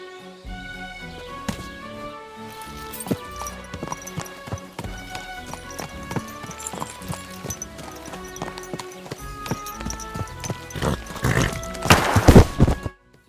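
Horse hooves clip-clopping in Kingdom Come Deliverance II, a steady run of crisp hoof strikes over in-game ambience, growing louder and busier toward the end, with a brief voice.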